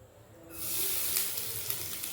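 Grated coconut roasting in a pan for rice puttu, a sudden broad sizzling hiss that starts after a quiet moment and holds steady with a faint scraping stir.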